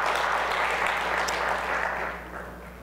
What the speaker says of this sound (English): Let's give God a hand clap of praise this morning.